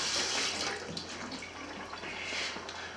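Tap water runs steadily into a kitchen sink as food is rinsed before cooking, a close, continuous splashing hiss with no talking over it.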